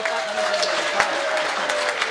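Listeners at a Haryanvi comic poetry recital break into loud clapping with raised hands, a brief dense burst of applause from a crowd with a faint voice and tonal hum underneath.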